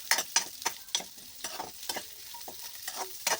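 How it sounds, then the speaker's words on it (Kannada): Fish fries in a pan for a Kundapura-style fish curry, giving a steady stream of close crackling pops and bursts of sizzle at an uneven rhythm, with no talking. "ಬಾಡು ಫ್ರೈ ಆಗಬೇಕು"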